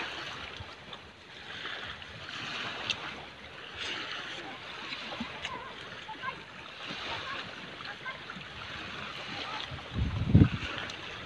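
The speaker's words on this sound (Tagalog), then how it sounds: "Kusog ng hangin." Strong wind rushing over open sea with a boat's low drone during net fishing, waves slapping and a muffled thump near the end; faint voices mix in.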